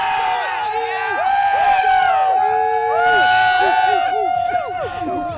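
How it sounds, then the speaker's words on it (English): A student section crowd at a college football game cheers and whoops loudly, many overlapping voices shouting in rising and falling yells close by. "Ready, set, start cheering for me."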